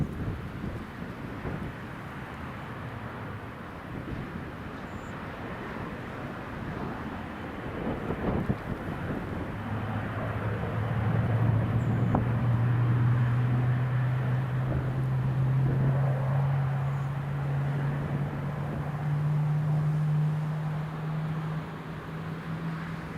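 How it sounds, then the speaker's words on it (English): A Ryanair airliner arriving from Dublin touches down on runway 25 in gusty wind, a distant low roar and rumble that swells midway and holds steady beneath gusts buffeting the microphone. "Ryanair from Dublin is just about to touch down now on runway 25."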